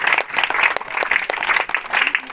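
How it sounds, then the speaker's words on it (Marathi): Schoolchildren on a forest picnic outing break into lively, dense applause that stays steady and close for a couple of seconds, with no voices on top. "त्याच्या टाळ्या वाजता"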